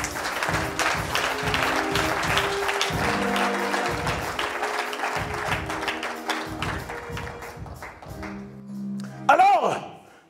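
A church congregation applauds during a French-language worship service, with dense steady clapping and cheering under a preacher's loud amplified voice for about ten seconds, tapering near the end.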